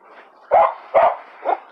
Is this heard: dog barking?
yes